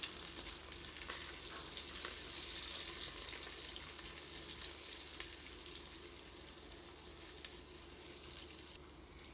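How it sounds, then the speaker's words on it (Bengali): Chopped garlic fries in hot oil with a steady, hissing sizzle that holds close and even for several seconds and then eases slightly at the end, with no talking. "দিয়ে দিলাম আমি রসুন কুচি। এটাকে একটু ভেজে নেব আমি।"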